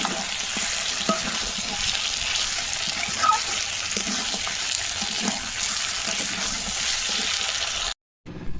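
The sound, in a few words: meat and vegetables frying in a pan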